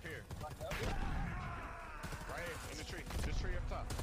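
Gunfire in the online multiplayer shooter Predator Hunting Grounds, a dense burst of rapid shots rattling continuously amid busy game noise and layered effects, with a voice talking briefly over part of it.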